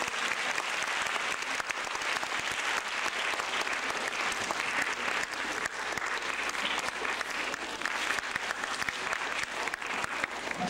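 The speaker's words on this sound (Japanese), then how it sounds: "それでは拍手でお迎えをしたいと思います。" Steady, loud audience applause fills a concert hall at a 1996 recital, welcoming a trumpet performer to the stage, dense and continuous throughout with no pauses.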